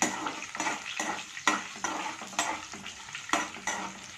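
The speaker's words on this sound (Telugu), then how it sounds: "ఒక 3 స్పూన్స్ వరకు పల్లీలను కూడా యాడ్ చేసుకొని ఒకసారి వీటిని బాగా ఫ్రై చేసి" Peanuts, about three spoonfuls, fry in a pan for carrot rice: a steady soft sizzle broken by roughly ten rhythmic scraping stirs, close up and with no talk.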